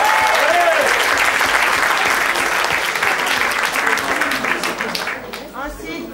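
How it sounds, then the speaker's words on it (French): An event crowd applauds a candidate being introduced, steady, full clapping that carries throughout and thins slightly toward the end, with scattered voices and shouts mixed into the noise. "je vous prie d'applaudir Jean-François Copé"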